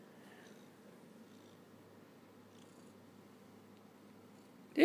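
A cat purrs softly and steadily up close in a quiet room, a low continuous rumble that ends with a sudden loud noise.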